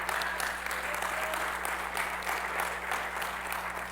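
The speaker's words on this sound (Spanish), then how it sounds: "Dale un fuerte aplauso a Dios." Steady applause from a church congregation, sustained and fairly dense throughout, with a constant low hum underneath and no break in the clapping.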